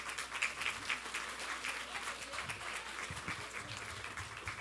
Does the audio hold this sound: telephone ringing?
no